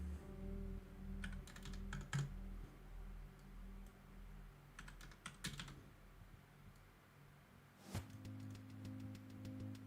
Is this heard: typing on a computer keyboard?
yes